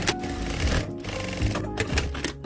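A sewing machine stitches the side seams of a cropped sweatshirt being reworked into a layered top, running in a fast continuous chatter with brief pauses and restarts, close by and fairly loud.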